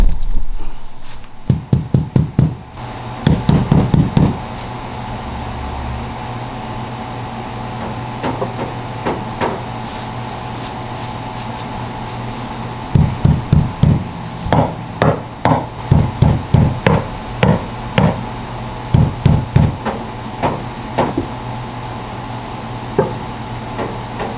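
Knocking on a floor and through a vent inside a house, heard as bursts of rapid hard raps in clusters separated by pauses, close and loud, with no talking.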